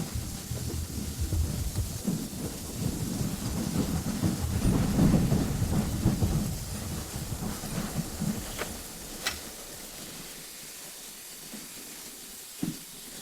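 Heavy rain pours outside on a dark night with rolling thunder, a dense, steady rush and low rumble that slowly thins out, with a few sharp drips and knocks near the end.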